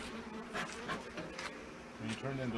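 Angry honey bees buzzing around an opened hive during fall hive management, a dense, steady swarm drone with individual bees whining close past the microphone.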